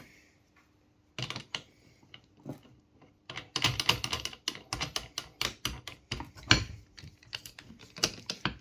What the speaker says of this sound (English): So we'll put our disc back on.